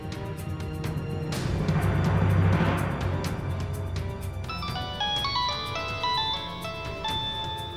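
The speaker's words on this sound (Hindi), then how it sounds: "रजनी वर्मा का फोन।" A mobile phone ringtone plays a stepped electronic melody of bright tones, entering partway through over background music in a Hindi television drama scene.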